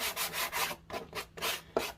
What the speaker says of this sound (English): now I'm going to take my sanding block. I'm just going to sand it down just a little bit.